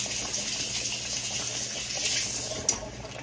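Tap water runs steadily into a kitchen sink as hands are rinsed under it, a continuous close gushing hiss with a brief splash near the end, no voices.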